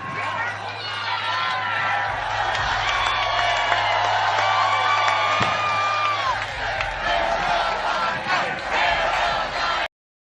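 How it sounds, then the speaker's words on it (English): A crowd at a Trump political rally laughs, cheers and whoops, a loud dense roar of many voices that holds steady for about ten seconds before cutting off abruptly. "The crowd laughed and cheered, momentarily forgetting the tensions."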